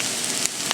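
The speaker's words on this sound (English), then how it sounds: "I'm sauteing it in this ceramic" Corned beef hash, a semi-traditional version portioned for two, sizzles steadily in a ceramic coated Hensel pan, a continuous close frying hiss with a couple of small pops.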